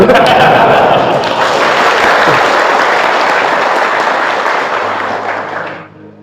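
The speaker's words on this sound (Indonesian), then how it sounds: "Kenapa jadi tepuk tangan begitu?" Loud, sustained applause from a large crowd at a religious lecture that fills the whole stretch and tapers off at the end.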